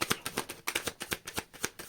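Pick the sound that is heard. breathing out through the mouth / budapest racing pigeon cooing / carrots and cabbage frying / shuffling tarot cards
shuffling tarot cards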